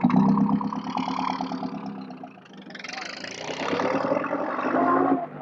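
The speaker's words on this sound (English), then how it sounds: "It's a little rich, but it's a Bentley noise." Bentley car running rich as it pulls away, a throaty mid-pitched engine note that dips and then swells, moderately near, with someone talking over it.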